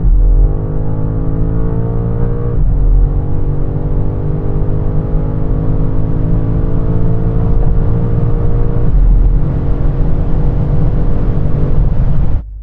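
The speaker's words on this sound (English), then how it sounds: "Finally then, the BMW. That struggled off the line." A BMW M5 accelerating from the line on a drag strip, with a loud, close engine drone rising steadily in pitch, dropping briefly at each gear change, then climbing again.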